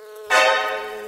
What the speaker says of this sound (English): Dear bees, I'm going to take a beehive with honey from you.